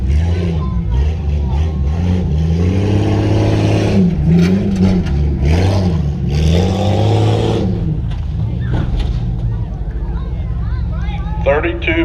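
A truck's engine revs and surges as it drives through the whoops section at Chambersburg Tuff Trucks, loud and continuous, with an announcer talking over it and crowd noise behind.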